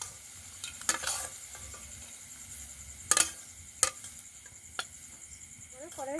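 Potatoes seasoned with salt and turmeric stirred and frying in a pan, a soft steady sizzle broken by a few sharp scrapes and clinks of the spatula against the metal.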